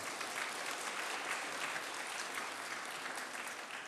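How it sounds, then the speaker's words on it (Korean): A church congregation claps steadily for a newlywed couple called forward during a Sunday service in New Jersey, dense sustained applause filling the room without a break. "우리 박수로 한번 격려하시겠습니다"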